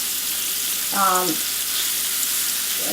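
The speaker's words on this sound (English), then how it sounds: "And then I'm going to saute. This is the onions and the celery." Onions and celery sautéing in a pan make a steady, bright sizzle throughout, with a short voiced sound briefly over it around the middle.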